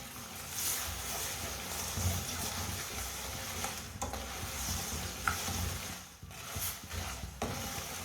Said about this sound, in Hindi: गुड़ को अच्छी तरह मिक्स कर लेंगे